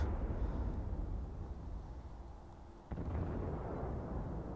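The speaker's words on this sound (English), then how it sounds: "1 more salvo with the front guns." Tirpitz battleship firing a salvo from its front guns in World of Warships: a deep boom breaks through a steady low rumble of engine and sea noise, then the rumble continues at a slightly louder level.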